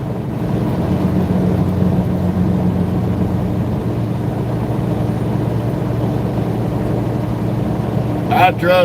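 A truck engine drones steadily while driving, a loud, constant low rumble filling the whole stretch, with a brief voice-like sound right at the end.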